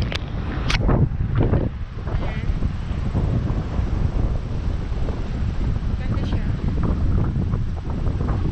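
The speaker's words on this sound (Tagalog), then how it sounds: "mahangin siya." Strong wind at Lake Ontario buffets the microphone in a continuous loud roar, with a few faint voices and thumps early on.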